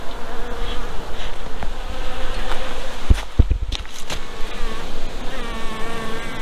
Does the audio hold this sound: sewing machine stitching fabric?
no